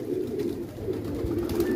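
Pigeons coo in a low, continuous murmur, close by and steady, with faint flutter in the background and no voices.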